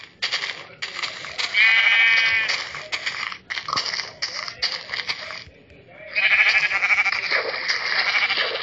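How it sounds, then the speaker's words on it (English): Blocky Minecraft sheep bleat in several drawn-out, wavering calls, loud and close, separated by short gaps and game noises, with no talk. "Alright, yes, we have a sheep."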